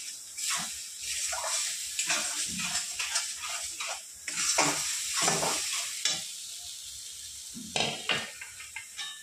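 Spice paste of whole coriander, mustard seed, garlic, onion and green chilli fried in oil for tilapia curry, with a spatula scraping and stirring in steady strokes over a continuous close, loud sizzle.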